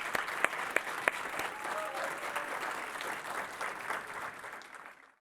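Applause from an audience at a women's achievement awards program, a dense, steady clapping that swells briefly and then tapers off over a few seconds, with no voices over it.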